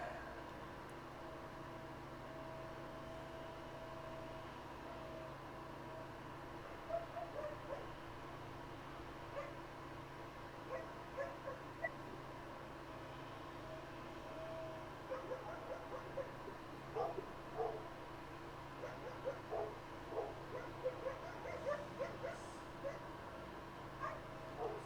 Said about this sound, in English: dogs in the backyard are going nuts